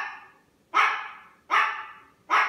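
Indoor dogs bark in three sharp, evenly spaced barks, each ringing off and fading before the next, fairly close and loud, with no voices.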